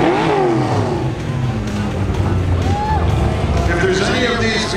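Customized vehicles leaving the SEMA Show drive past one after another in a loud, close stream of engines and revving, while a crowd and an announcer talk over the traffic.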